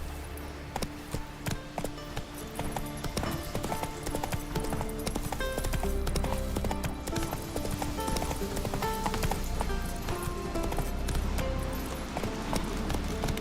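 Hooves of the horse Roach clatter in a quick galloping clip-clop rhythm in The Witcher 3, with a brief whinny and game music and sound effects layered over the steady pounding.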